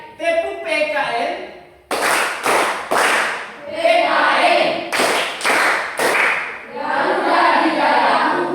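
A school class performs a PKN clapping chant, with sharp bursts of group claps punctuating a rhythmic call-and-response of young voices chanting together, loud and close.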